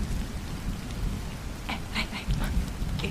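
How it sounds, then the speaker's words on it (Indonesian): Steady rain falls and patters on surfaces, a dense continuous wash of drops with a few sharper splashes, heard alone. "Pas banget hujan."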